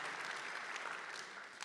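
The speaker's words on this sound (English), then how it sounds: "Let's round of applause for that." An audience at a mayor's State of the City address claps together, a steady, moderately distant patter of applause that fades slightly toward the end.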